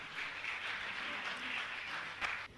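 Fairly faint audience applause at an honoring ceremony, a continuous patter of many hands clapping at a steady level, swelling slightly near the end before it trails off.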